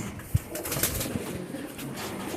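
Pet pigeons kept in a home loft coo softly and close by, a few low throaty calls over a steady background hiss, with light rustling and no talk.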